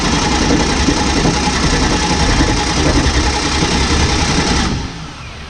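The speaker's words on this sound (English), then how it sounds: "Okay, wait, I will just spin the motor." An injected alcohol 460 big block Chevy engine runs loud and close with a dense, rough, steady roar, then drops off sharply near the end as it is shut down.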